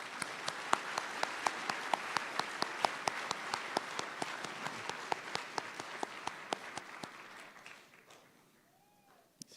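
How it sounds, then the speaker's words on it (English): An audience applauds at a county law enforcement academy graduation ceremony, sustained clapping with sharp individual claps standing out, then tapering off over the last second or two. "let's give them a round of applause"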